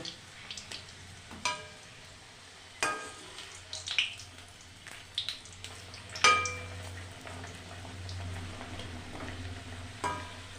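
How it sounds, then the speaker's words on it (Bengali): Pieces frying in a pan until reddish, with a steady low sizzle and a few sharp clinks of a utensil against the pan spaced through the clip. "এরকম লাল লাল করে ভেজে নিতে হবে।"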